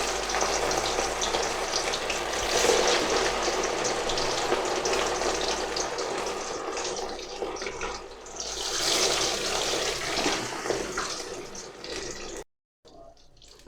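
Fish pieces sizzle and fry in hot oil, a steady loud crackling hiss that holds throughout, then drops out abruptly near the end before a brief return.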